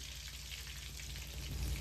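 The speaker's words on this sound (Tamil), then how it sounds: "மீன் குழம்புக்கு கடுகு வெந்தயம் நல்லா பொரிஞ்சு" Mustard seeds and fenugreek splutter in hot oil for a North Chennai style fish curry, giving a soft, steady, close crackling sizzle with no voices.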